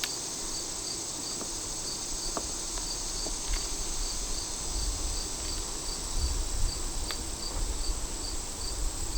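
Honeybees hum steadily throughout a new hive inspection while frames of freshly started comb are examined, a continuous soft insect drone with faint clicks and handling noises and no talking.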